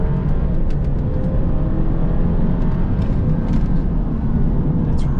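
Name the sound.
2-liter turbo car accelerating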